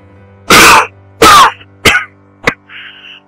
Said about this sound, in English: Behind me, I heard the coughing again.